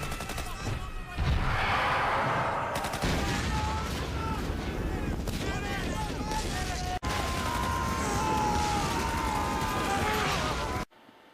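Gunfire in a Hellraiser III: Hell on Earth war scene set in Vietnam, as a father is shot: dense, loud film audio with bursts of shots among music and battle noise, and some voices mixed in.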